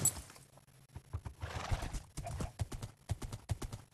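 Horses clip-clop steadily in a blocky mining video game, their hooves tapping in loose rhythm up close, with an occasional whinny mixed in.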